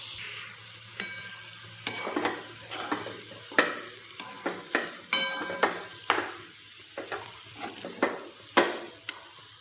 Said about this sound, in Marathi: आता यात मी वेलची पावडर टाकून घेते आणि याला छान असं मिक्स करून घेऊयात